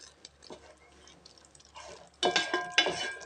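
A spoon stirs rice in a pot of mint pulao, giving faint scraping and clinking that turn into several louder, sharper metallic scrapes and knocks toward the end. Nobody talks.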